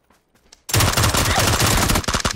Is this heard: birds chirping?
no